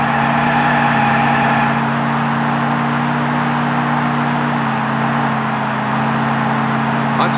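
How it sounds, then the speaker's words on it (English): NASCAR 99 racing game audio at North Carolina, with a loud, steady engine drone of stock cars holding a constant pitch, likely blended with crowd noise, continuous with no talk. "It's hard to hear the cars over all the cheering fans."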